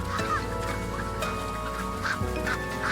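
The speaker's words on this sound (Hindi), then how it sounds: "बतखें क्वैक क्वैक करती हुई पास आ जाती हैं।" Cartoon ducks on a pond quack and honk repeatedly in quick, overlapping calls, loud and close, alongside other bright animated bird sounds.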